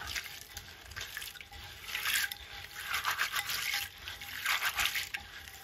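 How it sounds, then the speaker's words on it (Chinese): A pound of small home-grown soybeans is washed by hand in a large bowl of water, giving soft swishing and sloshing in uneven bursts that rise and fall, close by, with no talking. "大碗中准备1斤的黄豆，然后加入适量的长江水，下手给它洗一下"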